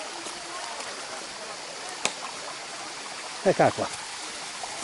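A small waterfall at the Rioscuro falls near Cineto Romano in the Monti Lucretili, channelled through a narrow stream, gives a steady, close rushing wash; a voice speaks briefly over it, and a few short knocks break through near the end.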